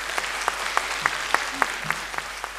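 An audience at a gala concert of the «Samorodki Moskvy» festival claps for young performers, with sparse, distinct claps and a few sharp accents over a soft room hum, and a brief murmur of voices.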